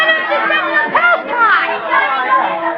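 Busy crowd chatter fills a street scene in an old-time radio Sherlock Holmes drama, with many overlapping voices murmuring continuously at a fairly close, steady level.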